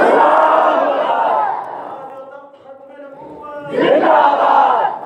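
A large crowd at an Islamic religious gathering roars a Takbir slogan in unison, a loud, sustained mass shout that falls away and then swells again in a second burst.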